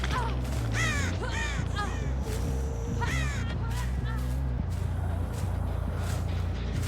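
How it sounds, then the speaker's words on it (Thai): Crows cawing in Dead by Daylight, several short harsh caws in quick bursts over a steady low ambient drone, with someone talking over them. "ผมได้ยินเสียงอีกาอยู่นะ"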